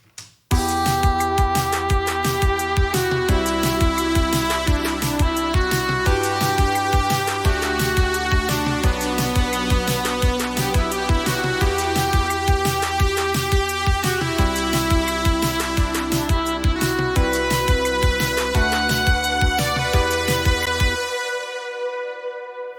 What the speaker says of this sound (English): basically it's some sort of pad sound